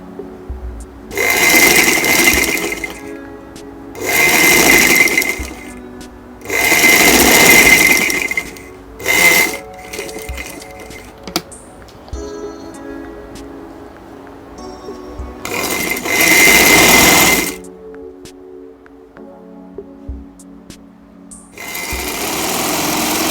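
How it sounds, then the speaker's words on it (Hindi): A sewing machine stitches a ladies' shirt in loud, close bursts of rapid whirring, each lasting a few seconds with quieter pauses between them, repeating about six times. "अब हम इस पे आधे पाँव की सिलाई लगा लेंगे"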